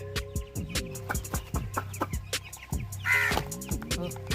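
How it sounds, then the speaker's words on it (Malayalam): Several chickens cluck close by in a busy, uneven stream of short calls as they come out into the open, with a louder, higher squawk breaking in near the end. "നമ്മുടെ കോഴികളെല്ലാം പുറത്തേക്ക് ഇറങ്ങുന്നുണ്ട്."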